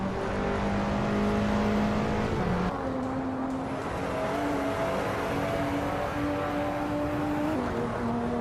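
Race cars in a racing video game accelerate with steady high engine whine, pitch stepping up through gears over a constant loud drone, no talk.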